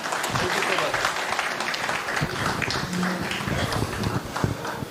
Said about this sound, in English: Let's give Farhan a round of applause.